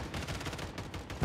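Rapid gunfire in the shooter video game Warzone, a steady burst of shots running through the whole moment at moderate level, with a slightly heavier hit near the end.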